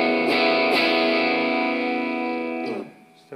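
A sustained, heavily distorted electric guitar chord through a Fulltone Distortion Pro pedal rings out loudly and then is choked off, followed by a brief scrape.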